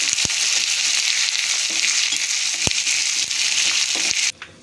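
Ginger and fresh curry leaves sizzle loudly and steadily in hot ghee for a sweet pongal tempering, with a few faint taps, before the sound cuts off abruptly near the end.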